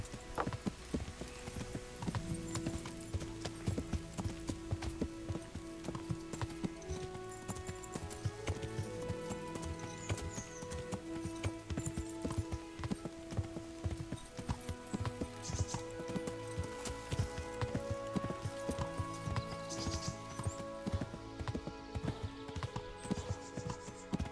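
Horse hooves clip-clopping in the medieval video game Kingdom Come Deliverance, a steady quick rhythm of hoofbeats running over soft game music for the whole stretch, fairly quiet overall.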